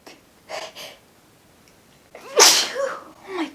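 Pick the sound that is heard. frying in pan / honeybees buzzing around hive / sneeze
sneeze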